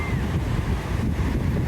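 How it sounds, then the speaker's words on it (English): Ocean surf washes at a beach, a broad continuous roar of waves mixed with heavy wind buffeting the microphone, steady and fairly loud over the short stretch with no speech. "The ocean."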